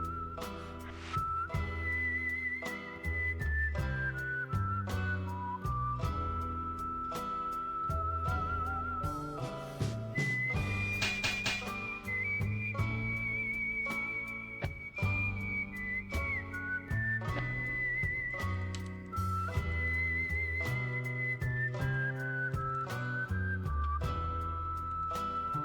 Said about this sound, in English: That's the cleanest whistle I ever done heard.